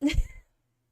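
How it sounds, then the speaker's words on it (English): A short, close meow from a pet cat, one quick call under half a second, heard alone with no talking. "she's a very affectionate cat when she wants to be"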